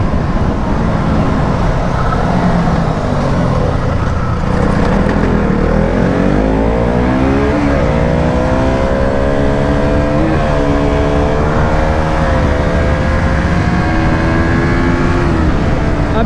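A KTM RC200 and a non-ABS Yamaha R15 V3 race on a street, loud close engine roar with rising and falling revs as the motorcycles accelerate and shift, continuous throughout with no talking.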